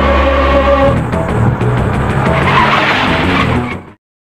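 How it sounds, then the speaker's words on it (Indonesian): A car in a film skids out of control with loud screeching tyres and engine roar, a sustained squeal that cuts off abruptly near the end. "terjadi pergolakan antara Vishwa dan Raghunandan yang menyebabkan kemudi mobil hilang kendali dan akhirnya terjun bebas ke laut lepas."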